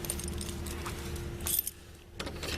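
A bunch of keys jangles nearby in a cluttered garage, a few quick metallic rattles over a faint steady hum.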